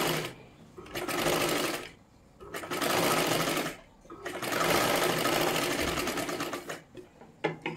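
A sewing machine stitches a katori blouse in bursts of steady whirring, loud and close, with brief pauses between runs and a short stop-start at the end.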